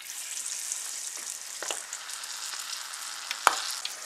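Battered shrimp tempura frying in hot oil, a steady bright sizzle with scattered pops and a sharp crackle near the end, close and alone without talk.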